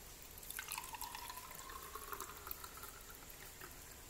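Water being poured into a Vulcano humidifier tank, a steady faint trickling that starts about half a second in and runs continuously, with small splashy fluctuations and no talk.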